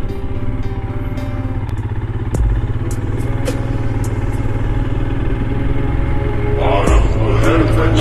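A motorcycle engine runs steadily on the way to a temple near Yellapur, a continuous close rumble that builds slightly toward the end, with a few faint clicks and rattles over it.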